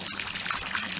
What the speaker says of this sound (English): I'm going to go ahead and add a little bit of chlorine to bring it back up to about 1 parts per million.